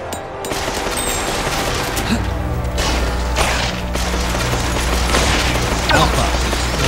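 Heavy gunfire cutting down enemies in the Killsquad co-op shooter, loud continuous volleys and mechanical clatter mixed with game effects, with some talk underneath.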